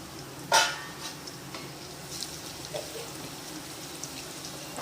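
Cumin seeds and chopped garlic hit hot oil in a pan with one sharp, sudden splash and sizzle, then settle into faint, scattered crackles and pops at a low level.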